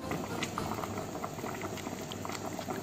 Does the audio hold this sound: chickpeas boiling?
yes